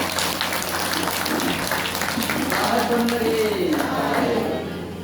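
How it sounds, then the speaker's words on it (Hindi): An audience at a devotional bhajan gathering applauds a young boy, with a dense wash of clapping from a crowd running continuously and fading slightly at the end, alongside a voice speaking. "एक बार आप इस छोटे बच्चे चंद्र प्रकाश के जोरदार तालियों से अभिनंदन करेंगे"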